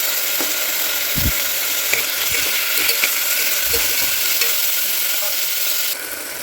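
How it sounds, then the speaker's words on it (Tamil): Steady, loud sizzling of tomatoes sautéing in a frying pan for biryani, with occasional soft scrapes and clicks of stirring, no talking. "இப்போ நம்மளோட தக்காளி நல்லா வதங்கிட்டு இருக்குது."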